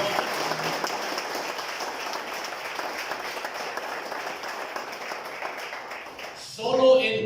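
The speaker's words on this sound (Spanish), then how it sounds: "Un aplauso para el Señor" A church congregation applauds during a worship service, sustained hand clapping filling the room at moderate level, with a brief louder rise and voices near the end.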